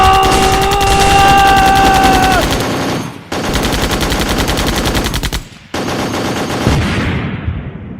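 Loud, close bursts of automatic machine-gun fire rattle in sustained rapid volleys, broken by two short pauses, as an army unit opens fire on command.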